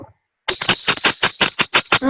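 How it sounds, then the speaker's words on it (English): A hand bell rung during arati worship gives a fast, loud, steady series of bright metallic rings, about a dozen strikes in under two seconds, heard alone. "please ring the bell as you do so."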